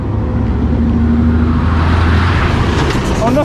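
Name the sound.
truck passing by on uphill road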